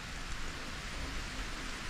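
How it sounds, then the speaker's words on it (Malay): Rain falling steadily across an oil palm plantation, a dense continuous hiss with a low rumble underneath, close and even throughout with no voices. "Hari dah start hujan guys."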